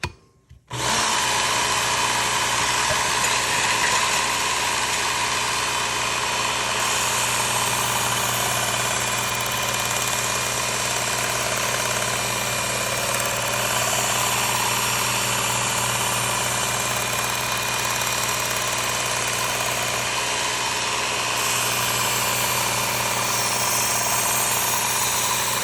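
A Work Sharp powered sharpener runs steadily for a long stretch while grinding and repairing a Shun chef knife, a loud continuous motor hum and abrasive whine with no talking.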